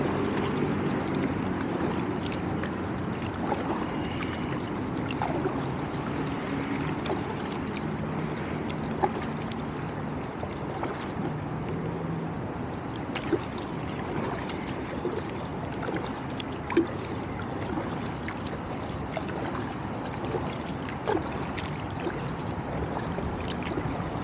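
A kayak paddles along the Harlem River in New York City. Water swishes and trickles steadily around the hull, with occasional soft paddle knocks over a constant broad wash of river and city ambience.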